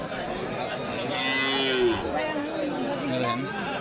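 Calf lowing at a busy cattle market, one drawn-out moo rising and falling over several seconds amid nearby crowd chatter and voices.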